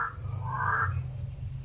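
A crow caws twice in quick succession, the harsh calls moderately loud over a low, steady background rumble.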